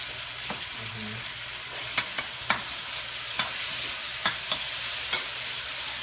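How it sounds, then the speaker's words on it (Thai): Food stir-frying in a pan gives a steady, moderate sizzle, with sharp spatula clicks and scrapes landing irregularly throughout. "ขอตัวไปผัดจ้ะ"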